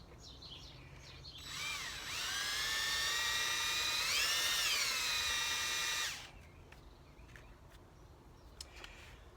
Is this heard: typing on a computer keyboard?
no